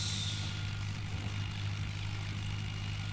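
An underpowered old tractor engine drones steadily while hauling a heavy load in the Farming Simulator video game, a continuous low mechanical hum at even loudness with no talk over it.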